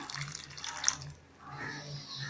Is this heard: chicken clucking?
no